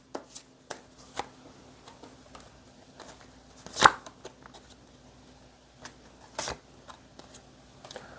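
Tarot cards are shuffled and drawn on a quiet table, producing scattered soft taps and short riffles with one louder flutter and a second burst later, no speech.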